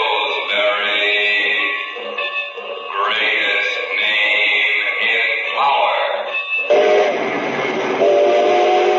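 A steam train sounds in an old-time radio drama, its whistle blowing in long sustained blasts that shift pitch partway through, loud and up front with no voices over it.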